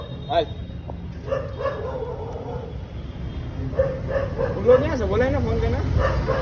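People chatter over a steady background rumble while a husky nearby lets out a few yelping, howl-like barks toward the end.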